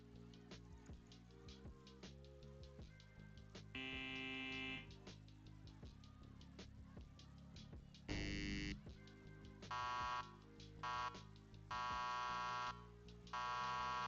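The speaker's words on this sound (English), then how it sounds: "buzzer." Buzzer sound effects for a live-coded gamification layer: several short, loud electronic buzzes in sequence, the longest near the middle, set against background music with no talk.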